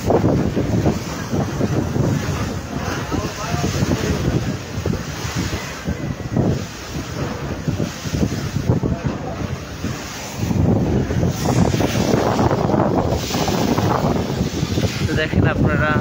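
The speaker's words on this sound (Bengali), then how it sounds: "নদীতে কিন্তু আজকে প্রচুর পরিমাণে ঢেউ" Rough, choppy waves on the Meghna river heard from aboard a passenger launch, a steady loud wash of surf and wind buffeting the microphone, with someone talking over it throughout.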